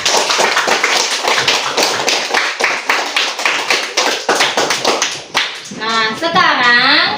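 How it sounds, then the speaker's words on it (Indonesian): A classroom of students applauds group 4 with dense, steady clapping for about five seconds. The clapping then fades and a voice starts speaking close by. "berikan tepuk tangan untuk kelompok 4"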